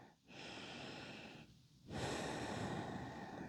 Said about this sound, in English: Few more breaths.